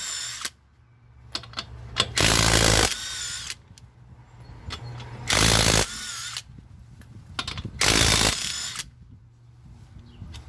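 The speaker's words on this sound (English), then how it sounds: "find your socket and your impact gun and remove your" Impact gun loosening wheel lug nuts during a tyre change, three loud bursts of rattling hammering separated by quieter clicks and handling noises.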